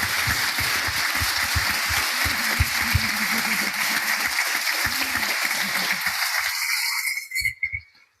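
An audience applauds speakers at the close of a talk on abstraction, analogy and artificial intelligence: dense, steady clapping from a crowd that holds for about seven seconds, then thins out and fades into silence.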